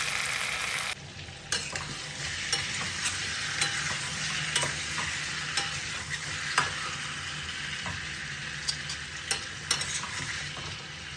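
Chicken pieces and large-cut potato chunks frying together in a pan, stirred with intermittent scraping knocks over a continuous soft sizzle, close up and quiet, no talking.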